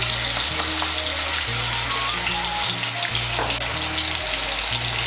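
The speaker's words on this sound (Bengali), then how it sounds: "নুন আর হলুদের গুঁড়োটাকে মিশিয়ে নিয়ে আলুগুলোকে লাল করে ভেজে নেব।" Salted, turmeric-coated potato pieces fry in oil in a kadai with a loud, dense, continuous close-up sizzle and occasional stirring, no voices.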